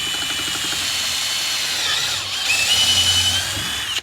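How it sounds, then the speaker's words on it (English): A power drill drives screws while a chicken coop is built, its motor whining steadily and loud for the whole stretch, pitch shifting slightly as the screw bites and seats, with no talking. "these are just really super handy for driving screws"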